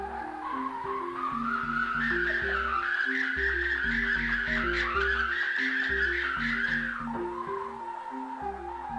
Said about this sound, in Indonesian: Suara pitu-pitu ini yang membuat burung-burung takut dan tidak mengganggu sawah kami lagi.